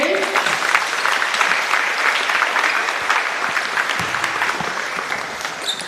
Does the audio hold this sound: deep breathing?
no